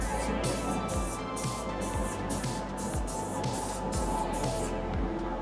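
Spray paint hisses onto an RC car body in short, repeated bursts of thin, light coats, each burst separated by a brief pause, close and moderately quiet with no talking.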